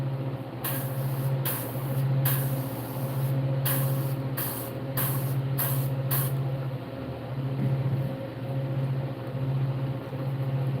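An airbrush hisses in short repeated bursts of spray, about eight quick pulses over a steady compressor hum, close by, painting a realistic largemouth bass.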